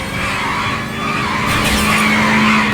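A car in the 1940s Los Angeles game L.A. Noire spins out in a chase, its tires skidding and squealing in a loud sustained screech over engine roar, with no voices.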